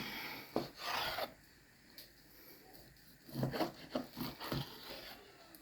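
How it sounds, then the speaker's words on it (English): A knife slices food into pieces on a cutting board, with short rasping strokes near the start and a quicker run of scraping cuts later, close and fairly quiet. "So it says to cut these into 2-inch slices."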